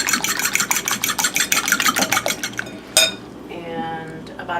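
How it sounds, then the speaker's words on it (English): Two eggs whisked in a bowl, a fast steady run of close metallic taps and clinks that stops abruptly near the end, followed by a quieter stretch with some faint background noise. "We're going to whisk together 2 eggs"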